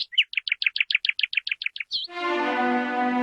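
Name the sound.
sparrow chirping at its nest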